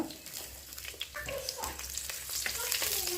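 Red chilies frying in a couple of spoons of hot oil in a pan for bangude pulimunchi, a steady close sizzle with small crackles and stirring scrapes, no talk.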